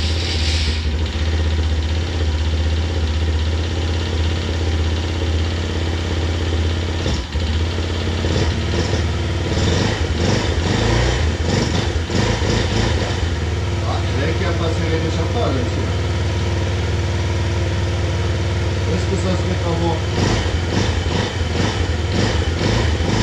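An abandoned quad ATV, refitted with a new carburetor and spark plug, runs and idles steadily and loudly close by, its engine drone continuous from start to finish, with people talking over it.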